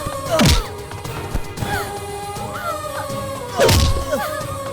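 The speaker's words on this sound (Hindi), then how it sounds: "भैया मत मारो उसे" Heavy thuds and whacks of someone being beaten in a movie fight scene, two loud impacts among lesser hits, with groans and dramatic score underneath.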